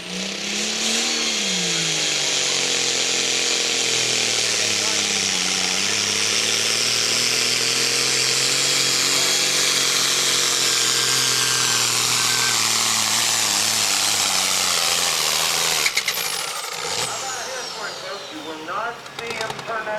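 A Pro Farm tractor at a truck and tractor pull roars loudly and continuously, its engine pitch rising and sagging under load before the sound breaks up and drops off near the end.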